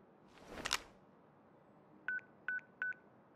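A cell phone in the video game Crisis Core Final Fantasy VII Reunion plays a short rustling click and then four crisp, evenly spaced keypad dialing tones, clear and close with nothing else heard.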